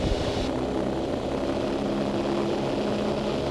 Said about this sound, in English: full power smoothly applied